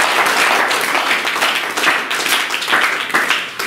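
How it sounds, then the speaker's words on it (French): A church congregation claps and applauds for Jesus: loud, continuous, dense clapping from many hands filling the whole moment without letup. "Acclamez pour Jésus"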